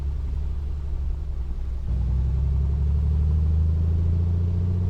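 A Piper Comanche engine in Microsoft Flight Simulator 2020 hums as a low, steady, loud drone while taxiing, with the pitch rising slightly partway through.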